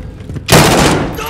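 Gunfire in Call of Duty: Warzone: after a quiet stretch, one sharp, loud close burst of shots hits suddenly and rings out with a dense crackling tail for most of a second.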